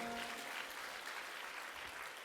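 Faint, even applause from an audience at a Hindu religious discourse, a short burst of continuous clapping heard at some distance with a low hum underneath.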